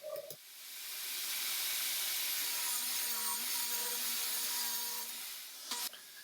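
A saw cuts through glued-up wood panels for garage cabinets, a steady hissing, whirring rip lasting several seconds that swells up and then tapers off, with a brief clunk at the start and end.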